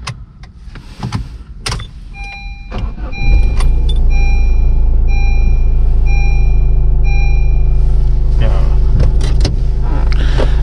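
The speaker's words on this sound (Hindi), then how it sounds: "मतलब कि इंजन नॉइज।" A diesel car engine turns over and settles into a steady low idle hum, with some clicks and mechanical sounds before it starts.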